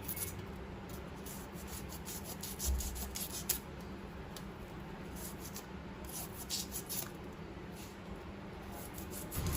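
A knife scrapes scales off a pearl spot fish (karimeen), making repeated close rasping strokes in a steady rhythm, with a few louder scrapes and no talking.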